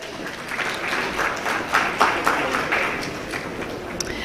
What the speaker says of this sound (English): Ladies and gentlemen, a big round of applause for her.